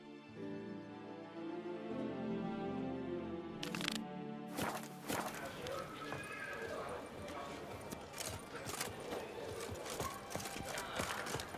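Horse hooves clop in The Witcher 3 during a ride, a steady run of close hoof falls with broadband trampling that starts after a few seconds and continues to the end, alongside game ambience and a horse snort.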